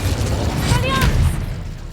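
An Incendio fire spell cast in Hogwarts Legacy gameplay, a whooshing burst with a low boom and crackling flare lasting about a second, amid game combat sounds.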